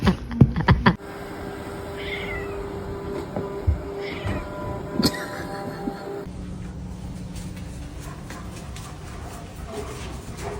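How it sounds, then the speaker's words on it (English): A cat meows a few times, short mid-pitched cries scattered over a steady background hum, with a sharp clatter at the start and a shift in background noise partway through. "What a nice kitty cat."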